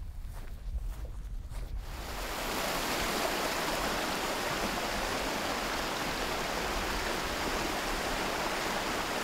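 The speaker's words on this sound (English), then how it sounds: "Right, well I've reached the stream." A mountain stream rushes steadily and close, a dense continuous wash that swells in after a couple of seconds of footsteps and quieter ground noise.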